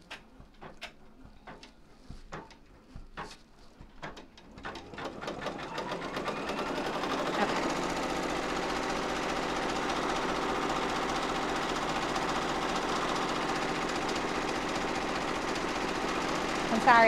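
A home embroidery machine sews a bean stitch outline around a tooth design in the hoop, starting with a few sparse clicks and then settling into a loud, steady, fast mechanical stitching whir that runs on continuously.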